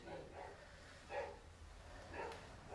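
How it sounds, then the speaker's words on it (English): A pet dog barks in short yips several times indoors, a few separate moderate bursts spread over a quiet room with low background hum. "Is it bad that I find her bark to be the worst noise ever?"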